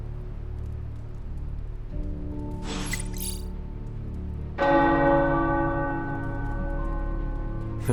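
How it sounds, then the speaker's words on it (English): Tower bells ring in the video game Marvel's Midnight Suns: a single resonant strike lingers over a soft rain-like background, then a louder, brighter bell peal swells and rings out with a long shimmering decay. "The tower bells are ringing."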